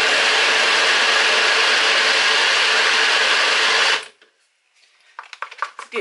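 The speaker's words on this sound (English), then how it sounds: "now that I have transferred my sorrel from my food processor to my NutriBullet, I am going to smoothly blend this" A NutriBullet blender purees sorrel with a loud, dense, continuous whir for about four seconds, then cuts off abruptly, followed by quieter knocks and rattles of the cup being handled.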